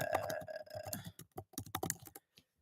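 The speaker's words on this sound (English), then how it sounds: "Y'all gonna hear me typing and everything" Rapid typing on a computer keyboard, close and crisp, with irregular bursts of key clicks separated by short pauses.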